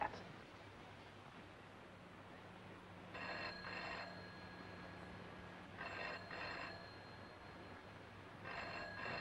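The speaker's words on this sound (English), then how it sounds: "They're ringing your room." An old-fashioned telephone rings in repeated double bursts, about three rings spaced a few seconds apart, heard faintly over a steady low rumble of a moving train.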